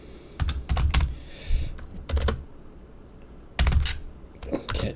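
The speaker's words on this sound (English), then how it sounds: "Can't seem to type it right." Bursts of quick key clicks on a computer keyboard, close and fairly quiet, arriving in short irregular clusters with pauses between them.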